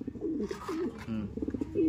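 Pigeons cooing in low, throaty, repeated phrases, close by and fairly loud, with faint rustling in the background.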